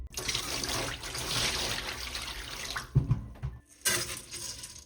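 Warm water at 50 to 60 degrees is poured over rinsed basmati rice salted with a spoonful of salt, giving a close, continuous splashing rush that breaks off, sputters briefly, then resumes, with no talking.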